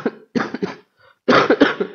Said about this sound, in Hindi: ये खांसी कब जाएगी